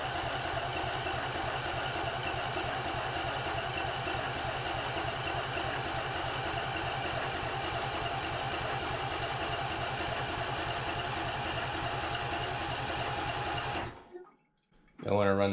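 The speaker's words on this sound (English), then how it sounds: "Don't want to run that starter too long." A John Deere lawn mower engine turns over on its starter in a steady, fast rhythmic churn for about fourteen seconds, then the cranking stops abruptly, leaving near silence with a brief rustle at the end.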